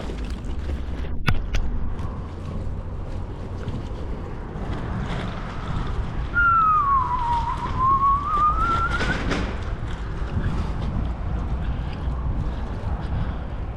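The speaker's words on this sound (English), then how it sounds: "I like whistling under bridges." Beneath a bridge on a cycle path, one person whistles a single falling-then-rising note, clear but moderate, over steady wind noise with no talking.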